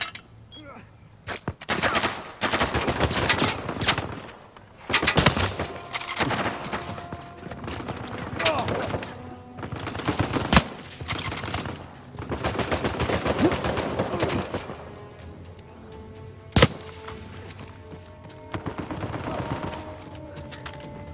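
Gunfire rattles through an Uncharted 4 multiplayer match, with repeated bursts and single sharp shots spread across the clip. Someone talks at times under the shooting.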